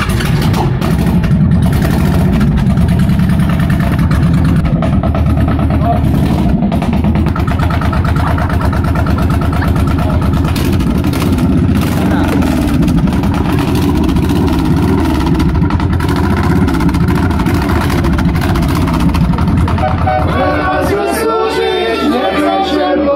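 A motorcycle engine runs loudly and steadily at a museum night event, a continuous close rumble with slight revving, while voices and crowd chatter mix in underneath.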